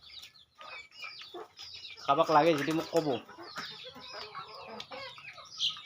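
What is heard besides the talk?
local chickens clucking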